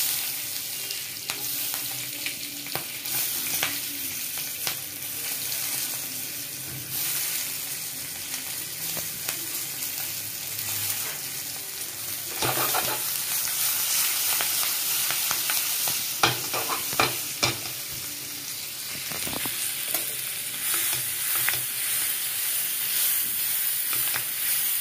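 Green chillies frying in hot oil in a pan, a steady close sizzle and crackle that runs throughout with occasional stirring scrapes and no talk.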